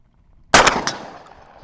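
A single loud, close blast from an Impala Plus 12 gauge shotgun, with a sharp onset and a reverberant tail fading over about a second outdoors.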